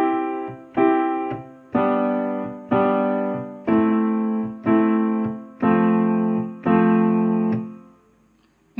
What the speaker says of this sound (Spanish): La primera hace do, sol, la menor, fa.